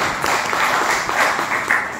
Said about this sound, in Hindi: तो भगवान भाई के लिए जोरदार तालियां होनी चाहिए